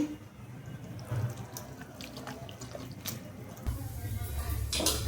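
Hot water poured from a tap or kettle into a bottle in a home kitchen, a steady close liquid rush with a few drips, growing fuller and louder in the last second and a half.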